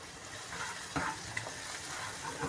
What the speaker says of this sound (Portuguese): Vou deixar o alho dar uma tostadinha